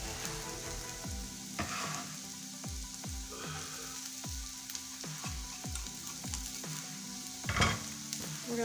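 Garlic sautéing in a pan, a continuous soft sizzle broken by a regular series of spoon scrapes and taps as it is stirred, close and fairly quiet with no speech.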